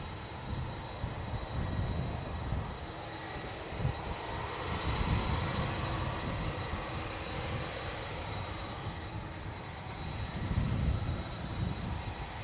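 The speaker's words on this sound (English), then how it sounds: "Boeing 777-200 first flight, 1994" A Boeing 777-200 on its first flight in 1994 passes with a moderate, steady jet engine roar, with low rumbling surges and a thin constant high tone above, and no talk over it.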